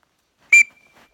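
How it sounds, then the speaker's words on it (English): One short, piercing blast from a loud bushcraft survival whistle cuts through silence, then a faint trailing tone fades out quickly. "And this whistle is super loud."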